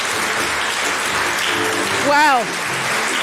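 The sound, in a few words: audience applause for the judges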